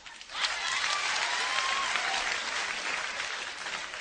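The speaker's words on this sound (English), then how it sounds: "All the good-looking ladies, clap your hand" A comedy club crowd in San Diego applauds steadily, a dense wash of many hands clapping at moderate distance that holds evenly for about four seconds without pause.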